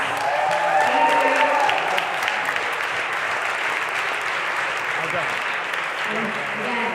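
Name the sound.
audience applause for volunteers and organizers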